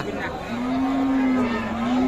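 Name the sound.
Sahiwal Sindhi cow mooing at cattle market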